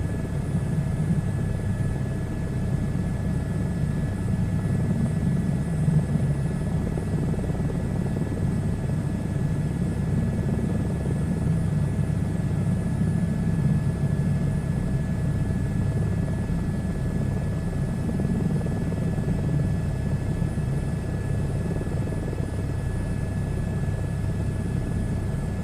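Helicopter in a VR flight simulator game, cruising at speed with a constant low rotor thump and engine drone, steady and unbroken throughout with a faint high whine over it.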